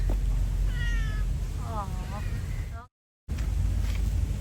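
A cat met outdoors on Pulau Ubin, Singapore, gives two clear close meows in quick succession, with a person's brief voice and outdoor background noise, then a short dropout.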